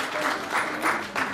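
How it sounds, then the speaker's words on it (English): Audience at a Guyana Republic anniversary event giving a round of applause, a brief burst of many hands clapping in a crowd with voices mixed in. "Let's give her a round of applause to thank her"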